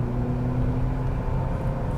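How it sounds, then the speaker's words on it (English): An Acura TSX Sport Wagon's K-series engine drones steadily from inside the cabin, a loud low hum with a smooth even tone holding for the whole stretch, no talking over it. "It's a good sounding engine. It just sounds like a K-series, and you can hear VTEC."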